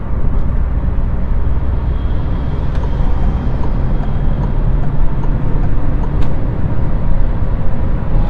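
Inside a Peugeot 208 cruising on the motorway in sixth gear, a steady, loud low rumble of engine and road noise fills the cabin with no break and no talking.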